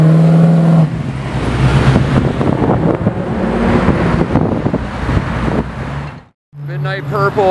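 Pontiac Trans Am passing by loudly at a car gathering, a broad engine roar mixed with wind buffeting and background traffic, cut off abruptly near the end before other voices and noise return.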